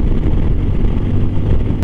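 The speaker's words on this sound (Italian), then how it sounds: "mamma come spinge sta moto" An air-cooled BMW R 1200 GS motorcycle climbing the Monte Bondone mountain road, a low steady engine rumble mixed with heavy wind buffeting on the microphone.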